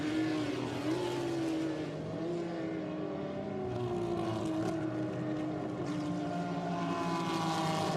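Porsche race cars roar around the circuit at the Rennsport Reunion, a loud, continuous engine drone with shifting pitch as several cars pass, with no voices over it.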